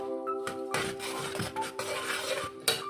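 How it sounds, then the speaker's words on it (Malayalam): A spoon stirring pineapple pachadi with curd in a pan for a Kerala sadhya, giving a steady close scraping and clinking against the metal with a few sharper knocks, heard alone. "എന്നിട്ട് നമുക്ക് നന്നായിട്ട് ഇളക്കി കൊടുക്കാം"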